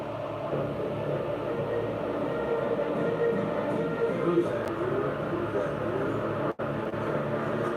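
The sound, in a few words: passing train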